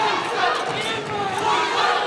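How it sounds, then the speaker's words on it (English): Fans cheer on a fighter at the Copper Box arena during a Cage Warriors MMA bout. A dense, steady crowd roar with rising shouts fills the whole stretch. "Bahari's fans here at the copper box cheering their man on"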